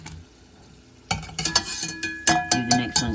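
Egg rolls dropped into hot frying oil, which bursts into loud sizzling after a quiet start and then keeps up in repeated crackling, bubbling surges, heard close up.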